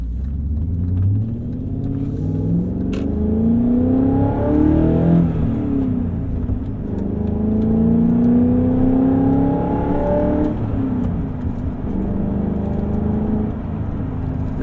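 A BMW E39 M5 engine pulls loudly through rising revs, shifts, and climbs again as the car drives. The close exhaust roars steadily throughout with no talking.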